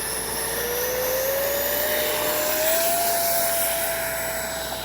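A Freewing 70mm F9F Panther RC jet spools up on takeoff, a steady loud ducted-fan whine with a thin tone rising slowly in pitch, swelling slightly toward the middle and holding continuous throughout.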